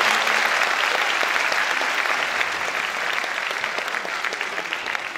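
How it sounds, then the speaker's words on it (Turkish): An audience at a music night applauds a music teacher, dense steady clapping filling the hall at an even level throughout, with no voices rising above it. "Kendisini lütfen kocaman alkışlayalım."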